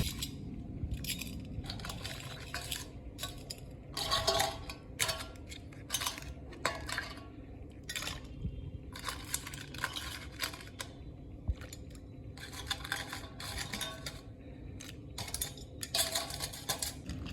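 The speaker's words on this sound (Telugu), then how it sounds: "ఇప్పుడు వీటిని శుభ్రంగా మంచినీటితో కడుక్కుందాం" Crabs are rinsed in fresh water, and the shells clatter and scrape against a vessel in a long run of irregular clinks and rustles. The sound is close but fairly quiet, with no talk.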